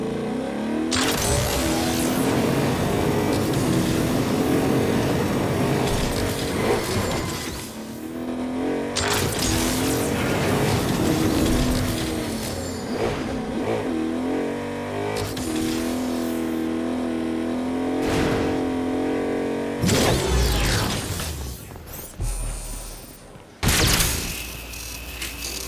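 A car engine drives in Agents of Mayhem with a loud, continuous hum that revs and shifts in pitch, cut by brief dropouts and surges near the end.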